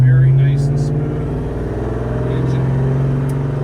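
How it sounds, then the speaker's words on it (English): A 1968 Chevrolet Chevelle Malibu pulls away from a stop, its engine droning loud and close as the automatic transmission shifts up smoothly mid-pull, with a steady rising growl underneath. "Pulling away from that stoplight, transmission shifts, very nice and smooth"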